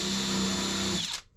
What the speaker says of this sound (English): I can take one screw out at a time, drill its counterbore very carefully